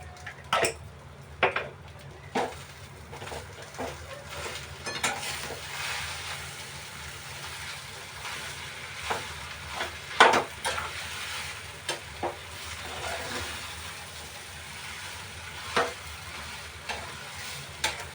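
Vegetables sautéing in a pan in a home kitchen, a soft steady sizzle broken by repeated scraping and clinking stirring strokes, with no talking.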